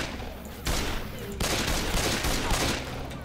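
Rapid gunfire in Left 4 Dead 2, loud sustained bursts starting abruptly and running continuously to the end.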